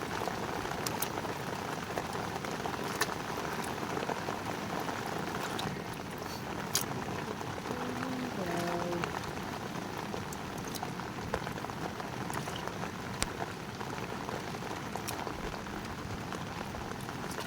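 Heavy rain falling at night during a coastal octopus-hunting outing, a steady dense hiss of downpour that stays even throughout, with scattered sharper drips and a brief faint tonal blip partway through.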